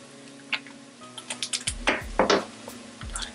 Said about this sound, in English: I'm going to cut up my sun-dried tomatoes.